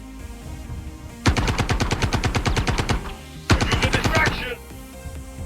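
Ship guns fire in Star Citizen during a capital ship fight, two loud rapid bursts of evenly spaced shots, the first about two seconds long and the second shorter, over a low game background.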